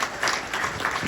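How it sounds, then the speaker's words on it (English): Applause from the audience at a University of Cincinnati women's volleyball press conference, a brief, even burst of clapping. "so that deserves a round of applause."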